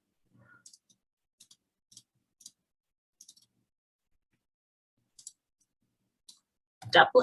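Computer mouse clicks while working in an Excel spreadsheet, sharp single and double clicks spaced irregularly and quiet, followed by a brief burst of speech at the end.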